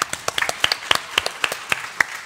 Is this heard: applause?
yes